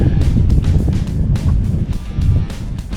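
Wind gusts over a lake buffet the microphone on a bass fishing boat in fall, a loud rumbling roar that surges and eases in uneven bursts.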